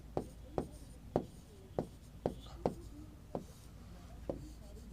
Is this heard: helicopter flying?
no